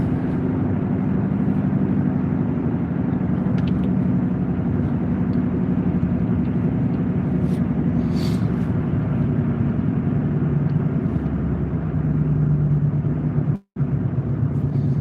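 A car drives through traffic, its steady low road and engine rumble filling the cabin continuously and evenly, with a momentary dropout near the end.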